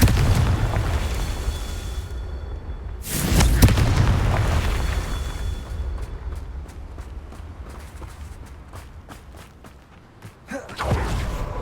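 A Confringo spell explosion in the video game Hogwarts Legacy bursts out as a heavy boom over a dense rumbling game soundtrack, followed by a series of rapid crackling impacts and a second surge near the end.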